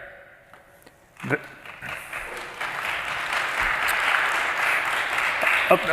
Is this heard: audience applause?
yes